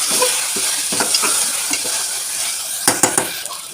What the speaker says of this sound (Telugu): ఇప్పుడు టమాటాలు వేసుకుందాం.